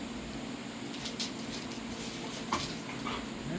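A dog bothered by a bee near its turkey whimpers and yips faintly in short, scattered bursts over a steady outdoor background hiss.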